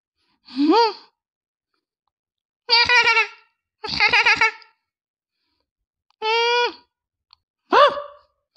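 A cartoon goat bleats in five short, wavering calls spaced by silences, loud and close with no other sound between them.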